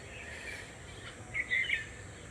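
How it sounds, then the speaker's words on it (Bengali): Birds chirp and call in a quiet village setting, faint and somewhat distant, with a brief cluster of brighter tweets near the end over low ambient noise. "পাখির কোলাহলের ডাক।"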